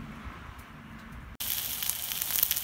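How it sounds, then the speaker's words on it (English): A beef rib roast sears on a Blackstone griddle, first a low quiet hiss, then a sudden jump to loud, bright crackling sizzle with scattered pops and spits that continues to the end. "we're searing the outside of the beef rib roast right now on the Blackstone griddle"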